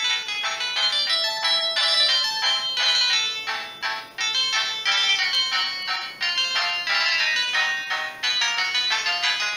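A bright polyphonic ringtone from a Samsung C200 mobile phone plays a repeating synthesized melody in short rhythmic phrases with brief pauses, loud and clear.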